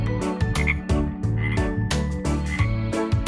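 A green frog croaks in a loud, steady series of rhythmic, rasping pulses, close and continuous with no talk.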